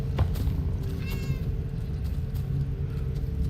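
A house cat meows a few times up close, short plaintive calls over a steady low background hum, with no talking.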